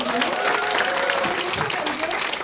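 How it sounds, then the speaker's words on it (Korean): An audience at a Korean company lecture event applauds loudly. The dense, sustained clapping runs the whole time, with voices mixed into the crowd noise. "여러분 박수 한번 크게 주세요."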